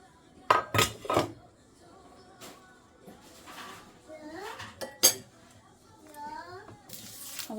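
White and brown sugar tipped into a mixing bowl holding butter, with sharp clinks and clatters of utensils against the bowl, a few scraping rustles, and a person talking in between.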